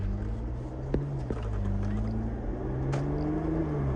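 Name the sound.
sports SUV exhaust while accelerating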